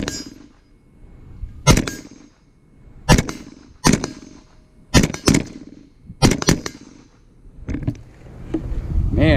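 A Primary Weapons Systems MK116 Mod1-M rifle fires .223 rounds outdoors, about seven sharp, loud cracks spaced a second or so apart, each with a short echoing tail.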